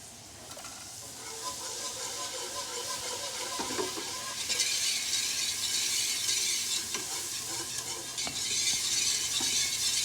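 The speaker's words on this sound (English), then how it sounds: "You want to stir this a little bit in, and then you slowly incorporate more milk." Milk being stirred into a hot roux for mac and cheese, with a steady sizzle and soft scraping and stirring, loud and continuous throughout with no talking.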